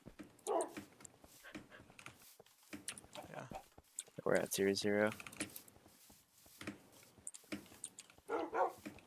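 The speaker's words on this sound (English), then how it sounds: "Your dogs are fucking pushing me." Dogs bark in a video game, short yaps scattered under steady talk from players, with computer keyboard typing clicking throughout.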